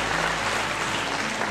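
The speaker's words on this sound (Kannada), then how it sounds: "ಒಮ್ಮೆ ಎಲ್ಲರೂ ಜೋರಾಗಿ ಚಪ್ಪಾಳೆ ತಟ್ಟಿ ಅವರನ್ನ ಶುಭ" Loud sustained applause from an audience at a Gulbarga University stage function, a dense even wash of many hands clapping close by.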